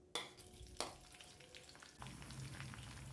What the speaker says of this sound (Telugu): ఆయిల్లో కొంచెం వేడెక్కిన తర్వాత పచ్చిమిర్చి